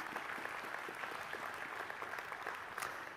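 A church congregation applauds as a speaker comes up, a steady wash of many hands clapping at moderate distance, fairly quiet and even throughout.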